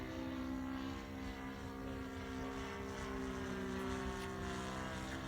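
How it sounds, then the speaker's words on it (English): Model PT-19 airplane powered by a Saito 180 four-stroke engine on its first break-in flight, giving a steady, droning propeller buzz at constant pitch, heard fairly close and alone. "it's a break-in flight for the engine and the airplane"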